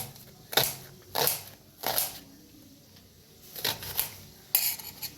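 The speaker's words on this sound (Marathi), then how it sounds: "कांदा एक आकाराचा मोठा घेतलेला आहे, कापून घेऊया बारीक असा एकदम।" A knife chopping a large onion finely on a board for a potato and aubergine dish, heard as a few separate bursts of crisp cuts spaced about a second apart, close and fairly clear.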